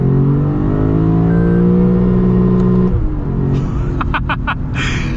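A 2025 Lexus RC F Final Edition V8 revs hard with a rising, droning engine note, then drops abruptly mid-clip into a violent downshift marked by rapid crackling pops, heard loud and close from inside the car.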